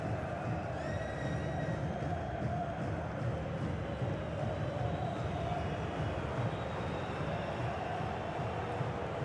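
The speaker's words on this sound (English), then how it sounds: "You can sense how annoyed the crowd are." A football crowd in a stadium, annoyed at their team's poor play, fills the air with a dense, steady roar of mixed voices and jeers that carries loudly and evenly throughout.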